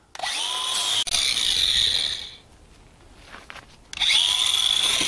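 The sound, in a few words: palm sander and grinder sanding a custom wooden deck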